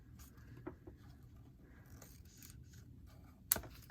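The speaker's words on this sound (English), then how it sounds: "I'm going to cut my end off here" A single sharp snip of scissors trimming the end of a ribbon on a Christmas pillow box, a brief crisp cut near the end amid quiet handling rustle.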